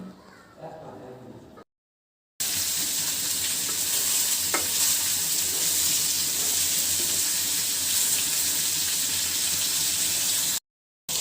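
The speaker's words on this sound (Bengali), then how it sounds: "মাছটা কিন্তু ভাজিতে বসাই দিলাম।" Katla fish frying in hot oil, giving a loud, steady sizzle that runs for several seconds, with a short voice at the start and brief silent gaps at either end.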